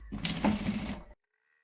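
A sewing machine back-stitches across the short edges of fabric for a reusable folding shopping bag, giving one close, steady mechanical whirr that runs about a second before stopping abruptly into silence.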